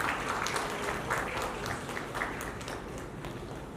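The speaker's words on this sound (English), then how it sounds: "A big round of applause for Dr." A crowd applauds a doctor at a health awards ceremony, a dense, even wash of clapping that holds steady throughout without pause.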